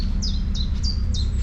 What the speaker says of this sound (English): Birds tweeting, hear the water in the